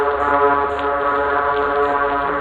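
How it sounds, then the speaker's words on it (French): Therapontidae fish calling during spawning, a continuous dense buzzing drone of many voices layered together, steady and loud throughout with no gaps. "Voici par exemple le bruit que font les Therapontidae pendant le frai."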